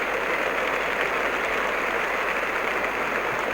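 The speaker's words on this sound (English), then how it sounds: "And the big crowd staying on here," A large crowd at an Australian cricket match applauds in a dense, steady roar of clapping that continues throughout, with no voices standing out.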